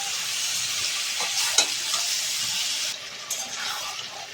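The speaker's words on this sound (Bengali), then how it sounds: "তো 4-5 মিনিট ভালো করে নেড়ে চেড়ে কষিয়ে নেব।" Ridge gourd and potato pieces sizzle steadily in a hot pan for a prawn curry, with occasional close scrapes and clinks of stirring, and no one speaking.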